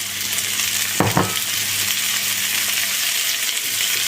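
Scampi frying in a pan for sautéed soba noodles, a strong, steady close sizzle broken by one sharp clatter of a utensil or pan, no speech.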